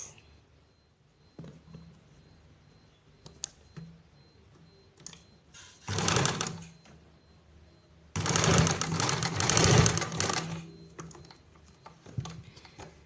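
A sewing machine stitches a piped buttonhole in two bursts, first a short run and then a longer steady whir. Quieter handling clicks and rustles fall between the runs.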